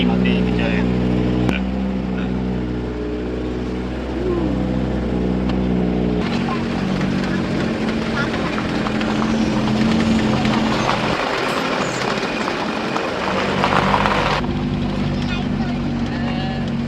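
A car drives along a road on the way to Kunkeshwar, its engine a steady, close drone that changes tone partway through, with people talking inside.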